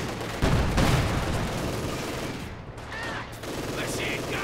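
An anti-tank gun fires in a Company of Heroes 2 battle, with sharp loud shots and rattling gunfire over a busy war din, and a voice talking partway through.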